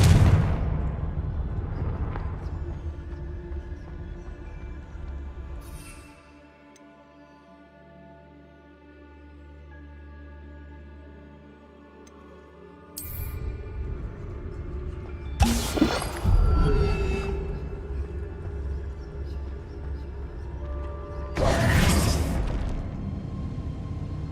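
A Confringo blasting spell explodes in Hogwarts Legacy, sounding as several loud, sharp booming blasts with crackling tails. They break out after a quieter stretch and recur a few seconds apart over low rumbling ambience.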